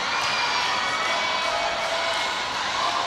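A volleyball crowd at an international match cheers, whoops and shouts continuously at match point, a dense, loud wash of arena noise with no break through the whole stretch.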